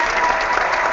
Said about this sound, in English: I'm going to clap for you.